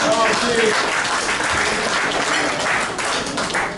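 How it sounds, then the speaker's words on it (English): An audience applauds Chief Diaz, the incoming head of the Seattle department, steady clapping from a crowd with voices and a little talk running underneath, holding at a fairly even level. "So have a round of applause for Chief Diaz"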